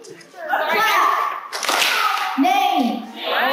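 Children clapping hands during a call-and-response movement game, a few quick claps mixed with excited kids' voices and chatter, close and fairly loud.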